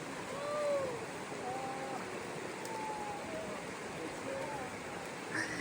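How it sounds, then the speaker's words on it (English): Stream water flows steadily at a crossing of Big Wilson Creek in the wilderness, a continuous broadband rush that stays even and close throughout. "Crossing Big Wilson Creek"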